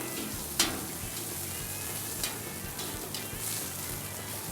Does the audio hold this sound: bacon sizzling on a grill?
yes